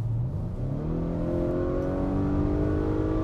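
2022 Acura RDX engine revving hard in sport mode, heard from inside the cabin as a steady rising drone with climbing harmonic tones, loud and continuous throughout.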